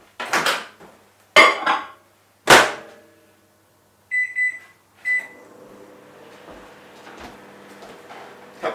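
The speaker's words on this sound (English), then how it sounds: "I'm just going to put this in the microwave for a couple of minutes." A kitchen microwave oven is started, with a few loud clatters and door or panel clicks and then a couple of short electronic beeps. A low steady hum follows as it runs.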